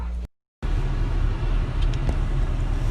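Steady low road rumble inside a moving car, broken by a brief cut to silence near the start, then a continuous droning hum with a couple of faint clicks.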